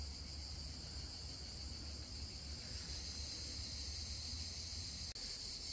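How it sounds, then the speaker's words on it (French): Cicadas singing around a hillside campsite where tents are pitched, a steady, continuous high buzzing drone that fills the whole stretch at moderate, even loudness. "avec le chant des cigales"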